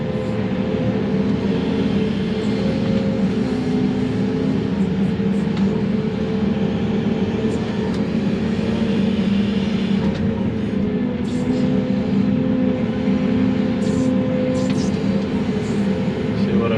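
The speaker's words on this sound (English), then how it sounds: "let's go load the dump truck" Heavy machinery loads dirt from a borrow pit into a dump truck while building a pond dam, a steady engine drone running throughout with no clear breaks.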